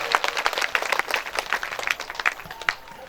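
A crowd at a devotional kirtan gathering in a village claps vigorously together, a close, lively patter of many hands with a faint voice in the background.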